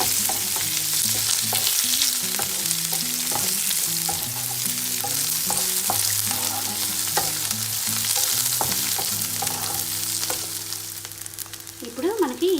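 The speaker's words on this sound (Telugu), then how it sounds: "అదేవిధంగా కట్ చేసి పెట్టుకున్న ఆనియన్స్ కూడా వేసుకుని 1 నిమిషం వేగనివ్వాలి" Chopped onions and curry leaves fry in a pan with a continuous loud sizzle and frequent stirring scrapes, while a low hum runs underneath throughout.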